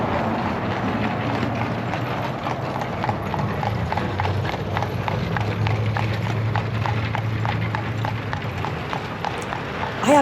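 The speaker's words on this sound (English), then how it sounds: "And here comes a horse and buggy." A horse and buggy clip-clops along a street in Bird-in-Hand, Lancaster County, with steady, evenly spaced hoofbeats and a low rolling rumble from the wheels.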